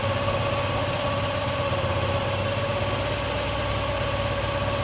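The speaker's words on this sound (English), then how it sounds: "This is the point where I am getting the maximum RPM." TVS Jupiter scooter engine held at high RPM while its carburetor is tuned for mileage, a steady, loud, continuous drone with constant vibration and no talking.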